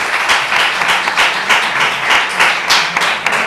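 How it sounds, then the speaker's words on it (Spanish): Audience applause at a Cádiz community event for a Three Kings association, steady dense clapping from a crowd lasting throughout, loud and close with no talk over it. "Un aplauso."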